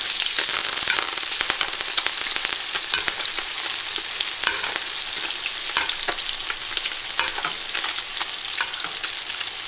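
Fish fillets frying in a pan and basted with herb butter give a loud, steady sizzle thick with sharp crackling pops that continue unbroken throughout.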